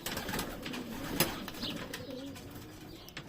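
Pigeons in a backyard loft of about fifty birds coo softly, a low murmuring call with faint rustling and a light flutter, close but quiet.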